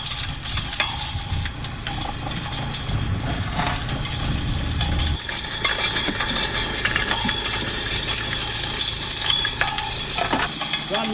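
A rock crusher in need of repair churns continuously, a dense grinding rattle of stones clattering and scraping, loud and close, with a machine drone underneath.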